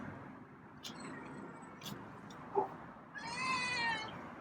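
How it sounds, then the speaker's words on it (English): A feral cat lets out a loud, drawn-out meow near the end, following quiet rustling and a couple of soft thumps nearby. "Wow, that's a loud meow."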